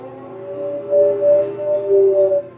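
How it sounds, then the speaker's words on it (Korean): A wolf howls in long, steady, tonal wails that rise and swell in a few waves, sounding mournful and moderately distant over a faint low hum. "늑대는 하울링을 하고"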